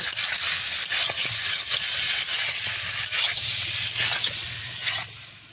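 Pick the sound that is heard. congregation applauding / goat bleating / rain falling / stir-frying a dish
stir-frying a dish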